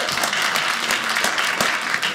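A comedy club audience applauds at a stand-up special, a dense and steady wash of many hands that holds at full strength throughout.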